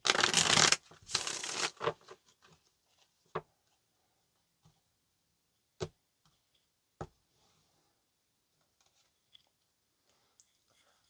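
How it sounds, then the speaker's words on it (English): Tarot cards being shuffled, a dense burst of riffling for about two seconds at the start, followed by sparse isolated taps and card clicks in near silence. "here's the last shuffle"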